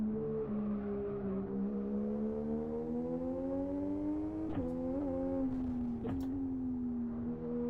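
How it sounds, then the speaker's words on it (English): A Nissan GT-R R35 engine in the Live For Speed racing game holds a steady, close drone that rises slowly under acceleration, broken by sharp gear-shift clicks and brief pitch drops near the end. "Quite loud gear shift sounds in this particular car, but you can definitely tell there's a flat 6 in this particular car"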